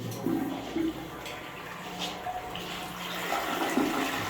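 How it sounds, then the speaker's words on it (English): Water rushes and gurgles steadily like a toilet flushing nearby, rising and falling over several seconds. "Flush yet?"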